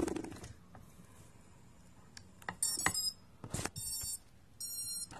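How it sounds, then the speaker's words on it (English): A quadcopter drone powering on gives a series of short electronic beeps and chirps, faint and close, over a quiet hiss with a few small clicks and handling sounds. "And then I'll go ahead and turn on my quad"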